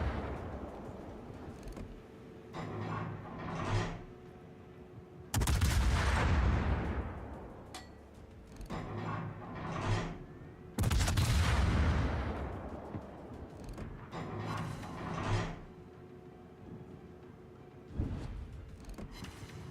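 Heavy naval guns from warships in a naval combat video game fire in repeated loud booming salvos, with the blasts rolling out at intervals across the clip and no talking.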